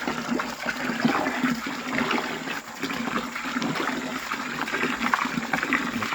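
Water runs and splashes steadily through split soybeans as they are rinsed for tempeh, a continuous moderate gurgling rush with no voices.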